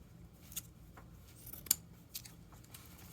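Scissors snipping the wire tails on a sunflower pom craft stem, a few sharp metallic clicks spaced irregularly with one crisp louder cut, close and quiet, no talk.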